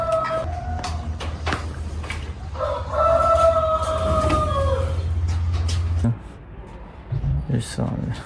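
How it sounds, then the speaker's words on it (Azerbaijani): Chickens and roosters in an eco park near Baku, with clucking and crowing-like calls rising over a steady low rumble, mixed with other bird sounds. "Burada xoruzlardır. Vay aman, yox ya toyuqdur bu, deyirəm xoruz."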